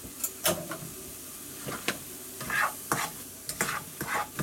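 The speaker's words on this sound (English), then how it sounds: "Listen to that sizzle." Apples sizzle faintly in a frying pan while a utensil scrapes and stirs in short, irregular strokes, close by and without any talk.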